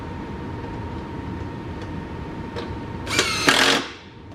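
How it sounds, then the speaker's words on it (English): After a few seconds of quiet background hum, a power drill whirs in two short, sharp bursts close by during an oil change on a 2022 Ford F-150 Hybrid, then stops. "And then with the drill."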